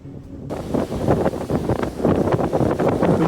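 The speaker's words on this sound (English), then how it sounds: "The wind's picked up" Gusty wind buffets the microphone aboard a Lagoon 60 sailing catamaran off Mallorca, rising suddenly and staying loud with rushing, uneven surges.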